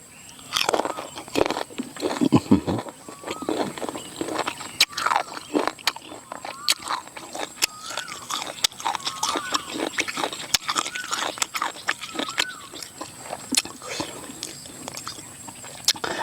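Crunchy unripe green mango is bitten and chewed with repeated crisp, wet crunches at close range. Scattered scraping sounds and faint background sounds run alongside.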